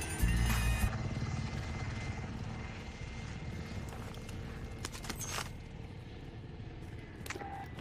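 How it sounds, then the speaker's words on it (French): Helicopters in a Call of Duty Warzone match churn steadily throughout, loudest at the start and then holding as a continuous rotor and engine drone, with game sounds layered on top. "Oh mais vas-y, on prend les hélicos là."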